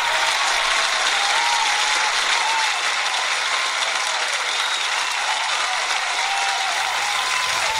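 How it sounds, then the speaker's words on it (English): Continuous dense applause holds at an even level throughout, with no breaks or separate claps standing out. "we could have an applause right here."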